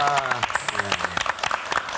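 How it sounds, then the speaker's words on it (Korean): Audience applause for a guest at a Korean church-broadcast talk show, scattered claps under loud music and speech, brief and close. "박수 한번 쳐주세요"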